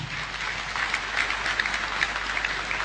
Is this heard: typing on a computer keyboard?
no